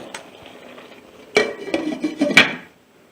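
A lid set down over a pot of spiced cauliflower with cashews, a few sharp metallic clinks and clatters in a short burst after a quiet lead-in, close and loud, no voices.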